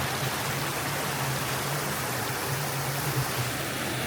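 Continuous rushing water from a forest waterfall, a broad steady roar, with a faint low hum underneath.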